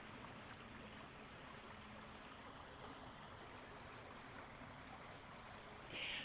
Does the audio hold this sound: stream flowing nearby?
yes